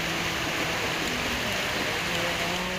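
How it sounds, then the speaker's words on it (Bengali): Heavy rain pours down in a steady, dense hiss of drops striking surfaces, loud and unbroken throughout with no distinct voices. "এরকম জোরে বৃষ্টি পড়ছে"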